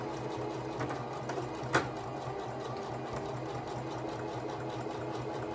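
A sewing machine stitches fabric for a maxi dress, a steady close mechanical whir with a fast needle rhythm throughout and one brief sharper click partway, at moderate level without voices.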